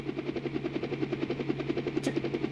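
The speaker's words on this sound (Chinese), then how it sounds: "直升机" Helicopter in the video game LiEat3: steady rapid rotor thumping with a constant engine hum, close and loud, continuing throughout without talk.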